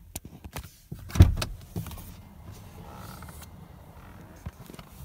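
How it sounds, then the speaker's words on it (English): Power windows on a 2016 Toyota Kluger all-wheel-drive SUV whir and creak at close range, with a few mechanical clicks and a louder thump early on, then a quieter motor hum running beneath. "you've obviously got your window controls, as well as lock, unlock, and then the side mirror controls as well"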